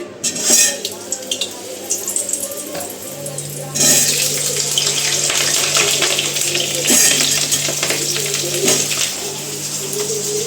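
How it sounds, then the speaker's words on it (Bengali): Raw chicken is washed in a kitchen sink under a running tap, water streaming steadily with splashing and occasional clinks of dishes, loud and close for the whole stretch. "এই যে চিকেনটা ধুয়ে নিচ্ছি"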